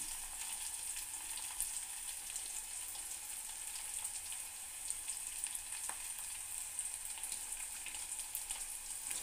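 Fenugreek leaves fry with onions in oil, producing a quiet, even, continuous sizzle like soft rain, with a few faint crackles scattered through it and no voices.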